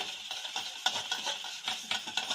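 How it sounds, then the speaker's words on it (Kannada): Carrot cake batter with curd and vanilla essence being stirred in a bowl, giving soft, repeated wet scraping and sloshing strokes at a steady rhythm, close and fairly quiet with no talk. "ಇವಾಗ ಚೆನ್ನಾಗಿ ಮಿಕ್ಸ್ ಮಾಡ್ಕೊಳ್ಳೋಣ"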